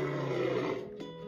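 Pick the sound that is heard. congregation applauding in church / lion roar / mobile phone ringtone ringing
lion roar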